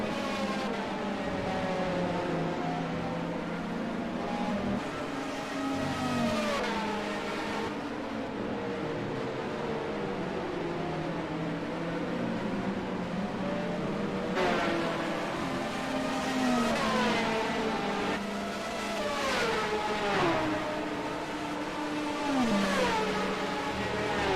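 Super GT 500 race cars at Okayama in a racing game, engines revving and shifting up through gears as they charge down the front straight, one car chasing a Supra, steady and close with no talking.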